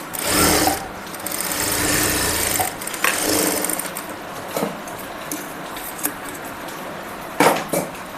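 A sewing machine stitches a pocket onto a kurti in short bursts of rapid mechanical whirring, close and fairly loud, separated by brief pauses with small clicks and handling sounds.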